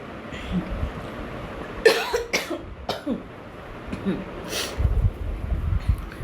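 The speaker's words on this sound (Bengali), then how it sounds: "সরি আসলে খুব কাশি হয়েছে।" A man coughs several times in hoarse bursts during a Bengali-language English grammar lesson, the coughs close and loud over a low background rumble with no speech.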